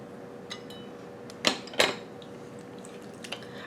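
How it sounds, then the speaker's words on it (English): Cherry pie filling gets stirred in a bowl: faint, wet scraping with two sharper utensil-against-bowl clinks close together, then a few soft taps in a quiet kitchen. "Then we're going to give it another stir."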